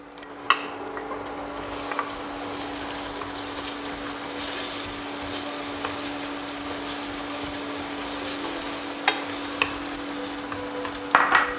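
Onions frying in a pan with garlic for a low-carb breakfast, a soft continuous sizzle under a steady background hum, broken by a few sharp utensil clinks against the pan.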